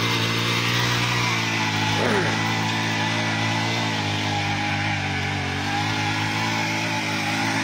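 A 63cc mini tiller engine weeding around the base of mango trees in a large orchard drones steadily and loudly at close range, a constant buzzing hum with no speech.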